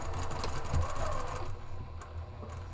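A sewing machine runs steadily as it stitches the short sides and base of fabric panels with a narrow seam, a fast, even mechanical whir that slows and fades near the end.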